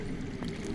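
Underground water in the Game of Thrones Telltale video game flows as a faint, continuous gurgling wash, a brief steady murmur with no voices.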